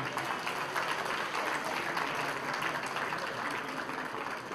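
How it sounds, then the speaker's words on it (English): Audience applause at a celebration honoring a celebrity chef, a dense, continuous wash of many hands clapping at steady volume throughout, with no talking over it. "So a big hand of applause to Sanjeev."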